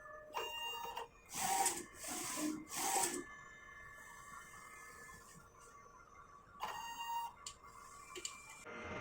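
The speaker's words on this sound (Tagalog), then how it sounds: "So magte-test po tayo ng nozzle niya." An inkjet printer runs a nozzle test after head cleaning, its print head moving in mechanical whirring passes with clicks and pauses between them, quiet and close.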